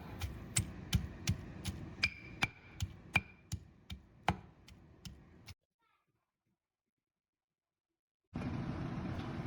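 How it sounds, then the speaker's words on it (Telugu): A small chopped onion with salt is pounded coarsely in a stone mortar, giving about a dozen sharp, evenly spaced thuds up close. The pounding then drops to silence before a burst of louder background sound returns. "ఒక చిన్న ఉల్లిపాయని చిన్న చిన్న ముక్కల కింద కట్ చేసుకుని అది కూడా రోల్లోనే కోర్స్గా కచ్చా పచ్చాగా దంచుకోండి"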